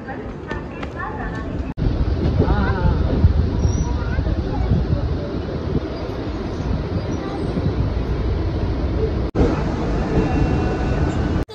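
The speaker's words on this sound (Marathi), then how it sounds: "विरार लोकल आली आहे, तोच प्लॅटफॉर्म तिथे आली विरार लोकल" Continuous rumble and rattle of a Virar suburban local train arriving at a Mumbai platform, with a dense crowd murmuring throughout; loud and close, with a couple of abrupt cuts.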